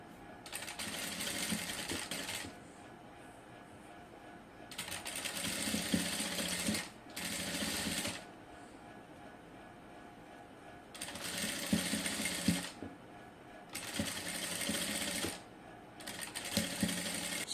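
A sewing machine stitching cutwork lace runs in several bursts of rapid, close mechanical whirring, each lasting a few seconds and separated by quieter pauses, without any clear talking.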